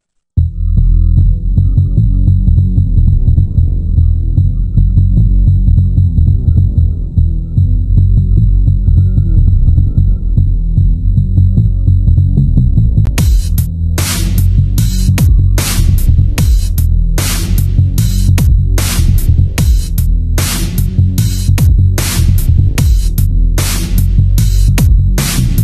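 A dubstep drop built in FL Studio 10 plays loud: heavy throbbing wobble bass and growling synth for the first half, then pounding rhythmic hits with bright crashing noise bursts driving the second half.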